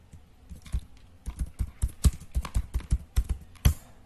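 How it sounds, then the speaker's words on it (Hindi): A short, steady burst of keystrokes on a computer keyboard while entering text into a Microsoft Excel sheet, close and fairly quiet, with one heavier key tap near the end. "अब मैं यहां पे अक्षित मिश्रा लिखता हूं"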